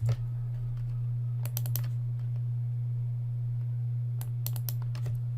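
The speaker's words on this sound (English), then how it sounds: "I'm just moving them around with the arrow keys." Computer keyboard arrow keys pressed in two short bursts of quick clicks over a steady electrical hum, close and fairly faint.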